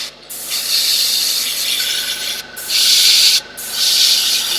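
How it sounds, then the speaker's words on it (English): An airbrush sprays paint onto a miniature in close, loud bursts of airy hiss, each lasting a second or two and separated by short silent pauses. "so nice, if you can see the way I'm using the airbrush, small concentric circles."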